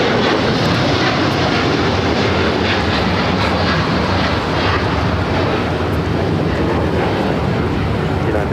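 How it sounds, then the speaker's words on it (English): A United Boeing 787-10 Dreamliner bound for Tokyo Haneda at LAX airport produces a loud, continuous broadband jet engine roar that holds steady throughout and sounds close. "And that flight heading to Tokyo Haneda on that 787-10 Dreamliner."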